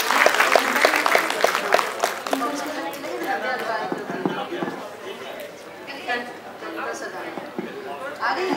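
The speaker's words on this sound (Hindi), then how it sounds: "लेकिन जितने लोग मौजूद हैं कृपया तालियां जाएं" An audience claps at an award ceremony, a fairly loud burst of applause that thins gradually, with murmured chatter and voices mixed in underneath.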